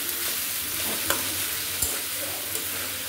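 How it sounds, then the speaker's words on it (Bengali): Vegetable bhaji with beans frying slowly in a pan, a continuous soft sizzle with a few faint scrapes of stirring, no voices. "তো ভাজিটা এভাবে আস্তে আস্তে করে নিব, সুন্দর করে ভাজা ভাজা করে নিব।"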